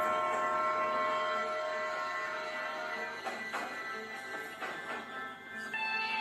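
A train rumbles along the track with a steady droning hum and sustained tonal ringing, occasional clacks and rattles mixed in, fairly distant.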